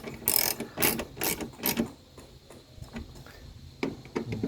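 Ratcheting clicks of the last nut being tightened on a 2009 Kia Rio headlight assembly, a few quick bursts of pawl ticks close by, then a quieter pause before more clicking.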